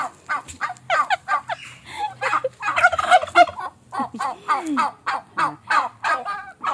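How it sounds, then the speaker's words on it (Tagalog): Turkeys gobble repeatedly in rapid, warbling bursts, several birds calling over one another nearby, with brief pauses between rounds. "Pabo yan."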